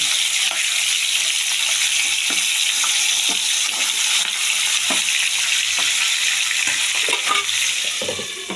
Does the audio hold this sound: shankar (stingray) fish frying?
yes